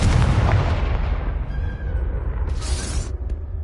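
A Confringo spell blast in Hogwarts Legacy booms out loud and heavy, its deep rumble slowly decaying over several seconds, with a brighter burst flaring near the end and no speech.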